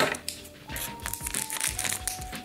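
Plastic wrapping on repacked trading card packs crinkles and crumples up close while being cut open, with irregular rustling bursts and a faint tonal hum in the background.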